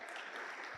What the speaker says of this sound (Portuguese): Vamos aplaudir a Ele por isso.